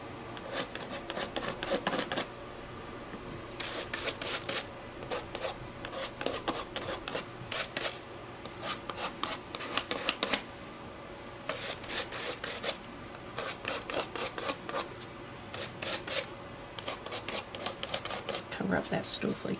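A tool scrapes across a surface to add texture and colour, making repeated close rasping strokes in short bursts separated by brief pauses.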